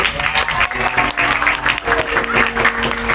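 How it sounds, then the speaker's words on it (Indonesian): A crowd claps steadily for a few seconds, a dense patter of applause without pauses. "Tepuk tangan."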